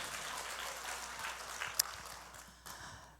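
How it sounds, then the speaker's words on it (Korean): Applause from a congregation at a Catholic retreat-house healing seminar, a dense steady patter of many hands heard from a distance, fairly faint, with a brief sharp sound near the middle. "영광의 박수 드립니다"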